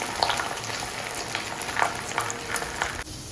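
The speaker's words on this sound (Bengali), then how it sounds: "দুটো ডিম একসাথে দিয়ে ভাজছি" Two eggs frying together in a pan on a gas stove, a loud continuous hissing sizzle with crackling spatters that drops off sharply near the end, no talking.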